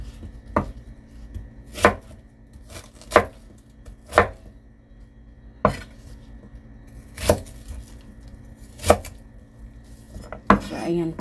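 A knife slices hobak, a Korean squash, into large pieces on a cutting board, with about eight sharp, evenly spaced chops, close and clear with little else around them.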